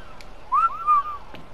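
A short whistle to call a tamed creature in the video game ARK Survival Evolved: two quick rising-and-falling whistled notes, fairly close, over a quiet noisy background.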